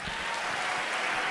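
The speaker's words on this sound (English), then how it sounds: "give them a big round of applause" Audience applause for the musicians backing Philip Bailey of Earth Wind & Fire at a live show, a steady wash of clapping that stays even and fairly distant throughout.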